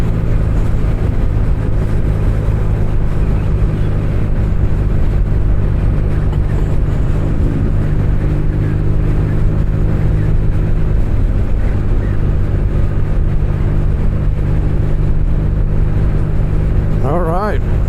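A 2023 BMW R nineT ridden on a commute road gives a constant low engine drone under heavy wind buffeting, loud and close, with a brief rising whine near the end.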